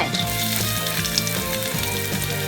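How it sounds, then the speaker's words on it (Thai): Steady loud sizzling of chopped garlic frying in hot oil in a pan, continuous crackle throughout with faint clinks of a utensil. "ตั้งกระทะ ใส่น้ำมัน ใส่กระเทียมสับลงไป"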